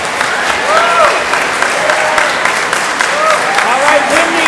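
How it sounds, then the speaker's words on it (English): Audience applause for a board chair at an annual meeting, a dense steady patter of clapping from a crowd with a few whoops and cheers rising over it. "Please give her a round of applause."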